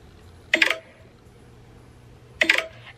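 Short synthetic notification chime from the Grindr app played back through a phone, sounding twice a couple of seconds apart, brief and bright against a quiet room.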